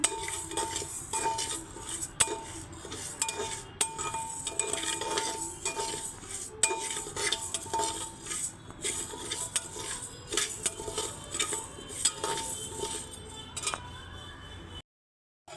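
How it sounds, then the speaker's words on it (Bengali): A metal spoon scrapes and clinks against a pressure cooker as raw rice is stirred continuously to dry-roast it for puffed rice, irregular rattling strokes with sharp clanks, ending in a brief silence. "নেড়ে নেড়ে ভাজা ভাজা করে নেব তো আপনারা দেখতে থাকুন চালটাকে অনবরত নাড়তে হবে"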